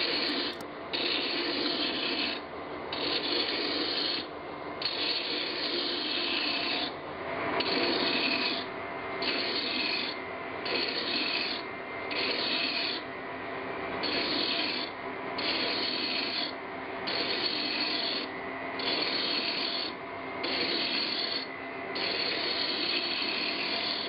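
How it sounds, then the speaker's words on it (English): Glass tankard base being ground down to size on a lathe at increased speed, a steady loud grinding rasp with a regular pulsing rhythm, close and continuous with no talk. "increasing the speed and grinding down to size"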